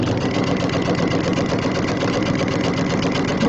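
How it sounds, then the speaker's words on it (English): A sewing machine runs continuously, stitching a quarter-inch seam along the edge of vinyl, with a fast, even mechanical whir and rapid needle clatter, close and steady throughout. "I'm going to do my 1/4-inch seam along the edge of my vinyl"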